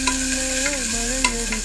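Chopped onions sauté with spices such as cardamom and fennel in a pan for a Tamil white kurma, making a short, close burst of stirring and frying sizzle.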